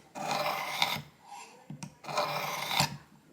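A rusty single-bevel broadhead is stroked on a Work Sharp Precision Elite sharpener, giving two long, close rasping passes separated by a brief pause, with no talking.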